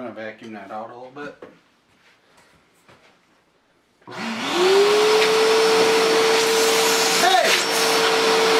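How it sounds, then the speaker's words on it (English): A voice speaks briefly, then after a short quiet a vacuum cleaner starts up close, vacuuming out a camera case, and runs loudly with a steady high whine. "I'm gonna vacuum that out a little bit."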